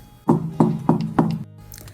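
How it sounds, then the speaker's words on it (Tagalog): A knock on a wooden door in a narrated story: four firm, evenly spaced knocks, close and clear, followed by silence. "katok mula sa pintuan ang nagpatigil sa kanila"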